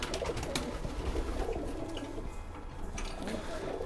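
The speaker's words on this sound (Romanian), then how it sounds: "Porumbeii se prezintă foarte bine, așteaptă să-și primească mâncare" Racing pigeons in a loft, waiting to be fed, coo softly and repeatedly in overlapping low calls, with light fluttering and shuffling around them and faint talk in the background.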